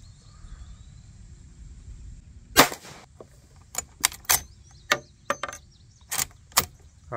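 Sharp gunshots from a Rossi R92 lever-action carbine chambered in .357 Magnum, firing .38 Special rounds outdoors: one loud crack, then a quick irregular string of about nine more shots, each short and punchy with brief pauses between.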